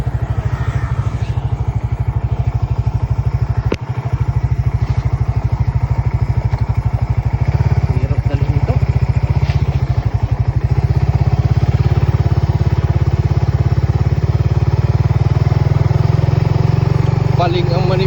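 A motorcycle involved in a road accident runs loudly nearby with a steady, rumbling engine throughout, while people talk over it.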